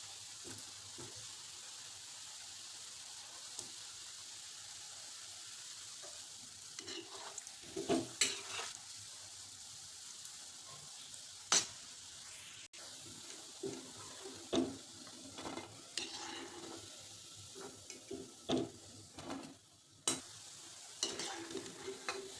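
Gulab jamun frying in a small amount of ghee in a pan, a steady soft sizzle throughout with intermittent scraping and stirring clinks from a utensil growing more frequent in the second half, close and fairly quiet, no talk.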